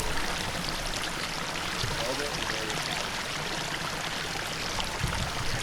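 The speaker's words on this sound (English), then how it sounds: "So we rebuilt that waterfall on the top, kind of overflows through here." Water from a rebuilt garden pond waterfall spills steadily over the top and runs on without pause, a continuous splashing trickle that stays fairly close and even in level, with no talk over it.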